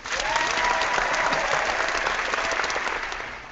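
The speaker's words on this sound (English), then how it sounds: "And a round of applause for Bob." A round of applause for a guest joining a geek-culture podcast, dense and even clapping at a steady level from start to finish, without voices, tapering slightly at the end.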